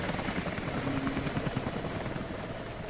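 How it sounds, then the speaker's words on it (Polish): A helicopter approaches in Rise of the Tomb Raider, its steady rotor drone loud and continuous under dense game ambience, with no let-up throughout. "Helikopter, Lara, chowaj się."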